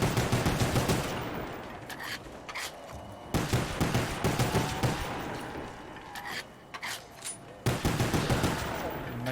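Rapid gunfire from Call of Duty Black Ops zombies mode, bursts of loud shots repeating across the clip with brief pauses, with game noise and some voice underneath.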